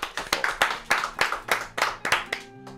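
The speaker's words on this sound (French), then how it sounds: "Merci d'applaudir très fort pour Koba Building" An audience claps for Koba Building on a radio show, a short round of sharp, rhythmic hand claps close to the microphone that quickly fades out.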